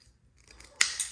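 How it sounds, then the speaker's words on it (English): Excess wiring sleeve being cut off during wiring work in the engine bay of a Volkswagen MK4 GLI, a single sharp scissor-like snip, close and fairly quiet, after a near-silent start. "We're just gonna go ahead and cut that off"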